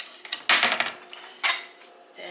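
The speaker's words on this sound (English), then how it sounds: "Put up all the dishes," Dishes and cutlery clatter and clink as they are put away in a home kitchen, two louder bursts of rattling ceramic and metal amid quieter scattered taps, close by with no talking.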